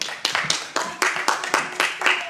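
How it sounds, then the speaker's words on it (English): A small group claps in a loose, uneven round at an event, the separate hand claps fairly close and distinct, with a voice faintly present underneath. "let's have another round of applause"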